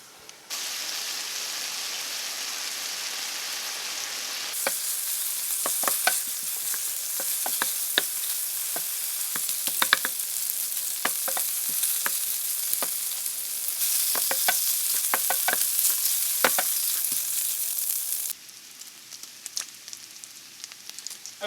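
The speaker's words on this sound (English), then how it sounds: "I've got my bacon rendered down" Thick strips of bacon sizzle and render in a pan for a green bean casserole, a steady close frying hiss broken by frequent sharp clicks and scrapes of stirring, with no voices.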